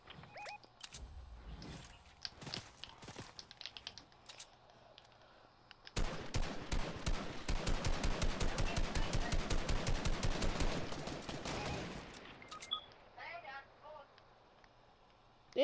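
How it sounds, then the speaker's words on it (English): Sustained rapid automatic gunfire from a squad fight in Fortnite, a dense burst of shots running for several seconds, loud and close, with scattered single shots before it and talk around it. "just start shooting at that whole squad so we don't have to worry about them"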